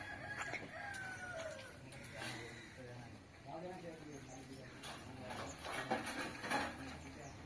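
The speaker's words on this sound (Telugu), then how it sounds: "మొత్తం కోళ్ళు అయితే ఇటు తింటానాయి మంచిగా అటు ఇటు" A flock of chickens clucks and calls while feeding on an overcast day, with a rooster crowing among them, moderately near but faint, mixed with people talking.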